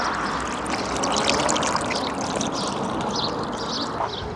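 Water pours and trickles steadily from a drinking tap outdoors, a close continuous splashing stream lasting a few seconds with no talk.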